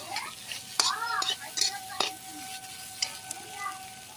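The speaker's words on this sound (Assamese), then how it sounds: "আলুখিনি ভালকৈ ভাজি লৈছোঁ" Potatoes fry quietly in a pan with a soft sizzle, punctuated by a few sharp clinks and scrapes of a utensil against the pan, with faint whispery voice sounds.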